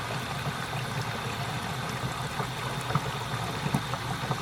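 Water rushes steadily into an 18-inch compact dishwasher installed in a mobile home, a continuous hissing flow with faint clicks and gurgles and no voices.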